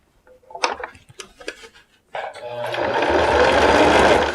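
A sewing machine runs steadily and loudly, stitching a folded, pressed trouser hem, starting at the thickest part of the fabric after a few slow hand-turned stitches and brief talk beforehand.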